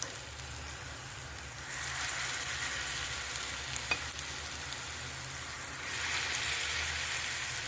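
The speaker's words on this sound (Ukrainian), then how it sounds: "Сковорідка розігрілась і додаємо ось так." Zucchini and cabbage fritter batter frying in a hot pan, a steady crackling sizzle that swells louder as more batter is added partway through, close and continuous with no talk.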